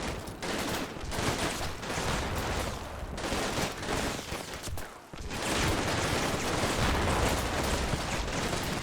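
Sustained heavy small-arms fire pours into a building in the wargame Combat Mission Shock Force 2, a loud unbroken rattle of overlapping shots that dips briefly once and then surges again for nearly nine seconds.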